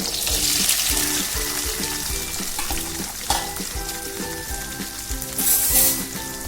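Garlic, about a quarter kilo of peeled cloves, sizzles and fries steadily in oil in a pan for a village-style tamarind curry, with occasional stirring scrapes and a brief louder hiss near the end, no talking.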